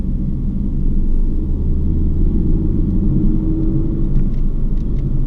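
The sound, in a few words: car accelerating through a corner on a race track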